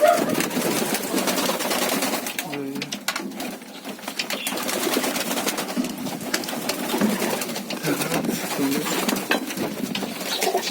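Pigeons cooing and fluttering nearby, a continuous low murmur of soft coos and rustling with no one speaking.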